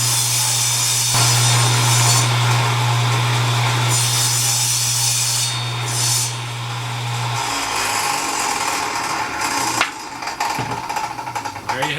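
Saw cutting wood pieces for a simple drawer, guided by an Incra 1000 heavy-duty miter gauge: a loud, close motor hum holds for several seconds, then winds down, followed by scattered knocks and handling clatter.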